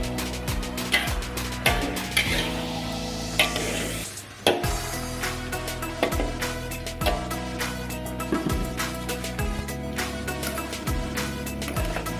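Chilies simmer in a pan while chicken pieces are turned, giving repeated sharp scraping and clinking of a utensil against cookware over a low bubbling. The sounds are close and come in irregular bursts, with a short pause partway through.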